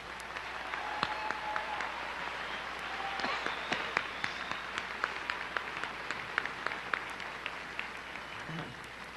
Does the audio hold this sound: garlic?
no